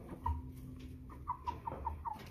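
American Bresse chickens in a pen give soft, quiet clucks, a single note and then a short run of evenly spaced calls, faint and close with low background noise and no talking.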